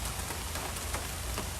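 Steady rain patters densely on a surface at a big cat rescue, a continuous hiss with scattered drop taps.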